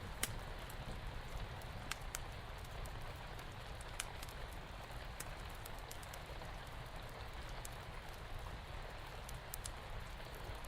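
Steady hard rain falls at night, a dense continuous patter with scattered sharper drips popping out now and then, even and moderately faint throughout.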